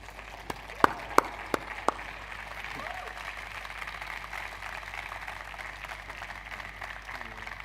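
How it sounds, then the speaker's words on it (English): Audience applause at a football business academy graduation ceremony, a few sharp individual claps at first then steady, moderate clapping from a crowd that continues throughout. "please give them another big round of applause"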